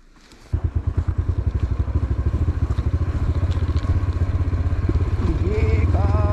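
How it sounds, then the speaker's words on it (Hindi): A motorcycle rolls downhill with its engine off and both brakes applied, making a loud, fast rhythmic clattering pulse that runs steadily, with a rising squeal near the end. "मोटरसाइकिल बंद है, ब्रेकें दोनों लगी हुई हैं, लेकिन टायर नहीं रुक रहे।"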